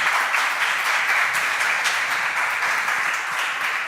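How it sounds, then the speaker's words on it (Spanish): Sustained audience applause at a Spanish-language talk on sustainability in gastronomy, a dense, steady wash of many hands clapping at even loudness for the whole stretch with no voices over it. "Un aplauso para ella."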